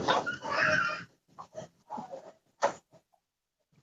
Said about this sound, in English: the dog is the louder than the baby sometimes